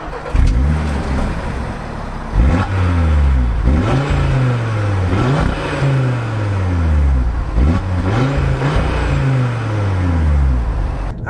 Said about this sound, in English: hit the engine start button, and this mighty 5-cylinder roars to life.